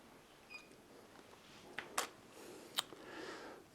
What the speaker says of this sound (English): I'm going to move my camera after that flash is fired